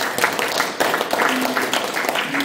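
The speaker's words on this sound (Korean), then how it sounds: "우리 송건엽 센터장한테 박수 한번 보내주십시오" Audience applause at a printing-industry forum in Daejeon, dense steady clapping from a seated crowd throughout, moderately loud.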